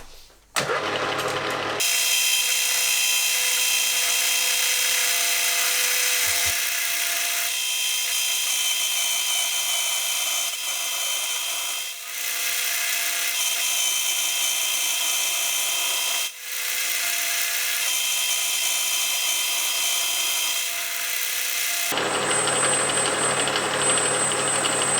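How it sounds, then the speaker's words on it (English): Lathe machining down a 40mm flange on a pulley, a steady loud whirring grind with a constant tone and a couple of brief dips, running close for most of the stretch before stopping. "I'll start to machine down a 40mm flange on the front"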